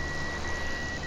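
A steady electronic warning beep sounds from a MAN truck with a Gallignani baler in Farming Simulator 17 on PS4, going off once the bale chamber passes 3,420 liters. It is a continuous tone over a low, constant engine drone.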